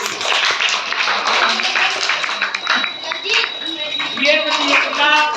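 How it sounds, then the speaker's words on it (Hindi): A school audience at a quiz show modelled on Kaun Banega Crorepati claps to welcome a contestant to the hot seat, a steady burst of applause heard close by throughout. "आरिफ की हॉट सीट पे आने तक आप लोग उनका तालियों से स्वागत करते हैं।"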